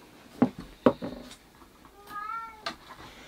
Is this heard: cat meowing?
yes